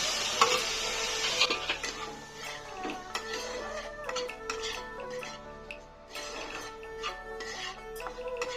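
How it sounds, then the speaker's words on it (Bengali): Chopped tomato is stirred with chilli powder, turmeric and other spices in a pan while cooking jackfruit seeds without oil, producing soft scraping and light clinks over a faint sizzle, close and quiet, with no talk. "সমস্ত মশলার সঙ্গে টমেটোটা ভালো করে নেড়ে নিচ্ছি"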